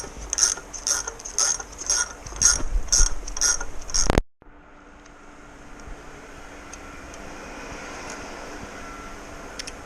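A valve spring compressor tool is cranked down on LS cylinder heads, making a run of close ratcheting clicks for about four seconds before stopping, leaving a low background hum.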